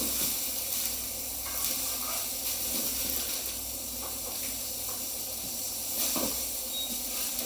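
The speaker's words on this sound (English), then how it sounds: "So we're going to put it into the pan like that. As you can hear, there's some good sear there." A cut of meat sears in a hot pan, making a steady, moderate hiss and sizzle that runs throughout with a few soft crackles and clatters.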